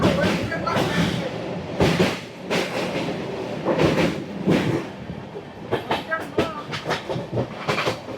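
The Black Diamond Express, running from Howrah to Dhanbad and arriving at Kumardubi station, rumbles steadily with rhythmic wheel clatter and knocks, heard from on board with people talking over it.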